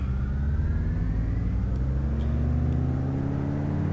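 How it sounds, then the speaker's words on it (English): Simulated light aircraft engine running up to power before takeoff in Microsoft Flight, a steady loud droning hum with rising harmonics, continuous throughout with no talk. "so run up power"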